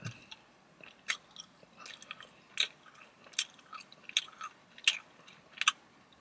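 Someone chews blue raspberry Laffy Taffy in a quiet room, the close, wet, sticky chomps coming in an irregular rhythm of about eight distinct bites with soft smacking between them, and no talking.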